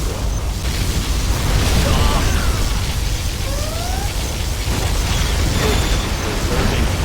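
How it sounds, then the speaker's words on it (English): A particle cannon strike in the real-time strategy game Command & Conquer Generals sets off a sustained, loud rumbling blast roar that churns continuously without a sharp single impact. "Warning, particle cannon activated."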